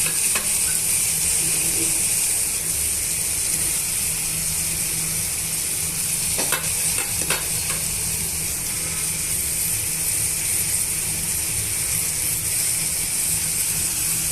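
Amaranth leaves curry frying in a pan, giving a steady close sizzle throughout with a few sharper scraping stirs around the middle.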